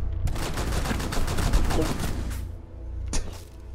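Light machine guns fire in a video game match, dense rapid bursts close and loud, a brief pause, then another short burst, with faint voices underneath.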